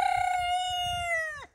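A large rooster crows once, close and loud, in a single long sustained call that falls away sharply at the end, with faint low farmyard noise underneath.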